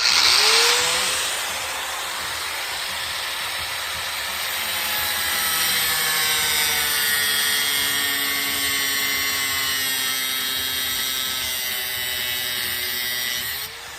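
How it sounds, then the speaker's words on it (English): A power tool grinds and cuts away a lock for 14 seconds, a loud, continuous whine with sliding pitch changes and steady harsh hiss, sustained close up throughout. "I did manage to cut and grind away the lock"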